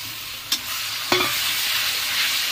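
Spice paste with chopped tomato and a splash of water stir-fried in a pan for a fish curry, a close, steady sizzle broken by two sharp clanks of the spatula early on, no voices.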